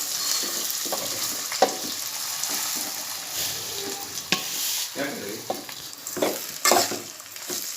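Poha with raisins and dry fruits is stirred in a hot pan for a Konkani dish, giving a constant close sizzle broken by repeated scraping and clinking strokes of a spoon, with no voices.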